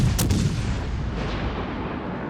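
Heavy naval gunfire from the British heavy cruiser HMS Albemarle in World of Warships Legends: a loud, sharp salvo boom at the start rolling into a sustained low rumble that fades slowly, with no talk.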